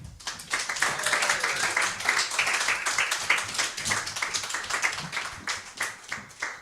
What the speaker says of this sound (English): So give a round of applause for Ephraim.